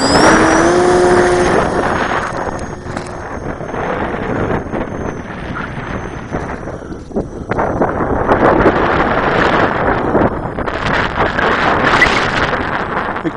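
Strong wind buffeting the microphone at a radio-controlled model airplane flying field: a loud, continuous roaring rush that surges and dips, with faint tonal whine from the electric model plane overhead.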